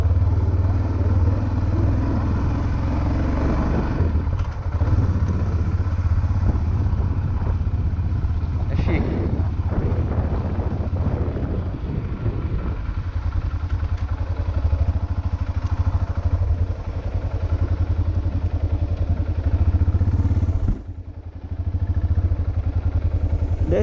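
A Yamaha XT660R motorcycle rides along a road near Sumidouro, Rio de Janeiro, its engine droning steadily and loudly up close under strong wind rush, with a voice briefly talking over it and a short dip near the end.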